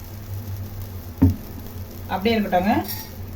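Bun dosa batter goes into a hot kadai with a sharp tap, then a soft sizzle, while a voice talks briefly near the end.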